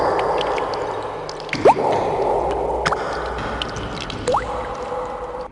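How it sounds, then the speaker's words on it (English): Water splashing and dripping in an audio drama scene: a continuous wet, sloshing wash with two sharp squelchy drip-like accents standing out, fairly loud and steady, no voices. "If only the splashing wasn't so loud."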